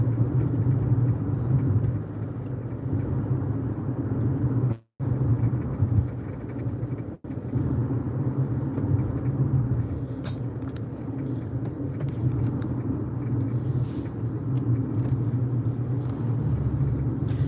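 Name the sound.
car driving on the road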